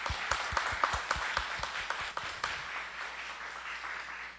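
Applause from a church congregation during a worship service, steady dense clapping with a few louder near claps early on, continuing at an even level throughout.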